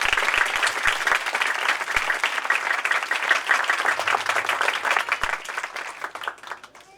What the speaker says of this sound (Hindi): आए उसके जलाल के लिए एक बार फिर ताली बजाएं खुशी के साथ